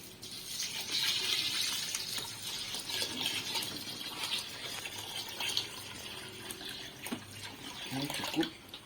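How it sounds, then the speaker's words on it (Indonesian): Water is poured onto glutinous rice for homemade rice wine, a continuous close splashing and trickling pour that runs throughout, with faint background noise. "nambahin airnya."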